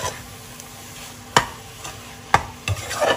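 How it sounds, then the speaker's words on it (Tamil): Prawn biryani masala with mint and coriander sizzles steadily in a pan while a spoon scrapes through it, with a few sharp stirring knocks over the continuous frying hiss, close and alone. "இது கொஞ்ச நேரம் ஃப்ரை ஆகட்டும்"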